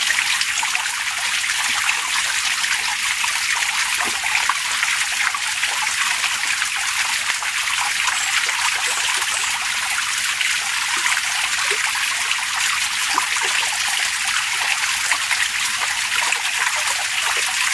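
Inside a gold mining tunnel, water trickles and drips constantly as a bright, hissing flow with small splashes. The sound is close and steady throughout, with no voices.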